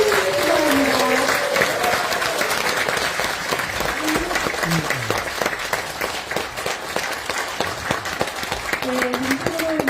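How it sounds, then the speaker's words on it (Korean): An audience at a lecture on basic income in Namwon gives a sustained, dense round of applause to welcome a National Assembly member, with a few voices audible beneath the clapping. "큰 박수로 환영해 주시기 바랍니다."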